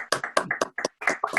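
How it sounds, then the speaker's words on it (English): Hand clapping during an online video meeting, a short run of sharp, uneven claps close to the microphone with brief gaps between bursts, no talking over it. "if we can figure out how to mute or at least clap along with me"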